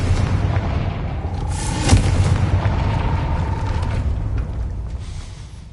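Confringo fire-blast spell exploding in Hogwarts Legacy: a loud single boom near the start that rolls out into a long, low rumbling tail fading away, with no voices.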